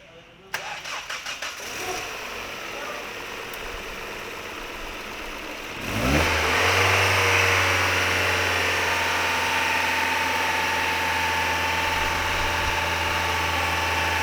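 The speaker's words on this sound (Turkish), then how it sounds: "Şimdi ilk marşını yapıp sesini dinleteceğiz." A Mazda 626 with a 2.0 DOHC engine, just repaired after a burnt head gasket, cranks in a workshop with rapid starter clatter, then fires and settles into a steady, loud idle hum that continues to the end.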